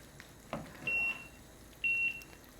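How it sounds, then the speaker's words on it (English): A kitchen timer gives two short, fairly quiet electronic beeps about a second apart, with faint cooking clatter in a quiet kitchen while dirty rice is being made. "it looks like my timer's off and I'm not done"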